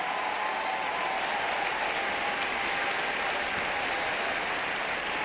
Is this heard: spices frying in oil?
no